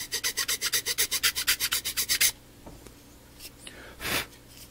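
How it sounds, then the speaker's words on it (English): A hand file rasps back and forth across a display case surface in about fifteen even, loud strokes. The filing stops partway through, leaving a few faint handling knocks and a soft breathy sound. "I was trying to file this down without, you know, I don't want to scrape this surface here"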